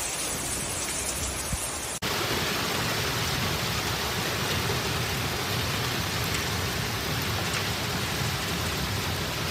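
Heavy rain from Storm Lambert, a humid Mediterranean-fed storm system, pours down steadily as a dense, loud roar of drops on surfaces, briefly cut short near the start before resuming at full strength without a break.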